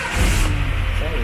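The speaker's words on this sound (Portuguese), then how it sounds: "Testa o motor de arranque de novo, vai só pra mexer." Renault Clio engine cranking over on the starter and catching, a steady rough mechanical rumble that rises slightly near the end, with voices talking over it.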